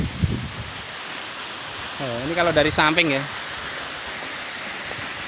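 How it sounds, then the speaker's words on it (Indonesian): Jumok waterfall roaring as a steady, broad rush of falling water that fills the whole scene, with a person speaking briefly over it. "Kita lihat lagi air terjun yang tadi."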